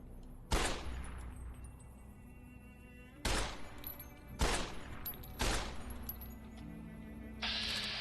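Gunfire in a Fallout video game: four loud, sharp shots spaced a second or more apart, each cracking and fading into a ringing tail, then a hissing rustle at the end, with no one speaking.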